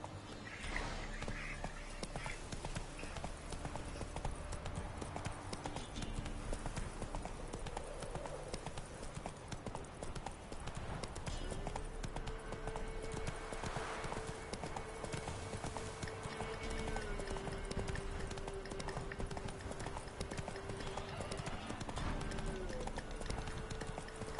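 Roach the horse gallops in The Witcher 3, a continuous rhythmic clip-clop of hooves running steadily at moderate distance over a soft game ambience and music-like tones, with no talking.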